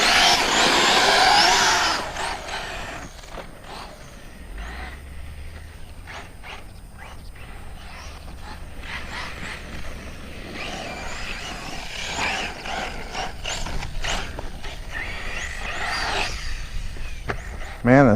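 A Losi SCTE 4S RC truggy drives and jumps outdoors, its motor whining in bursts with crunching landings and tire scuffs, near then farther off, amid wind and a little talk.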